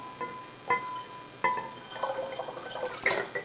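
Kombucha starter liquid pours into a jar in a home kitchen: a few separate drips, then a steadier light trickle with small splashes, close and fairly quiet.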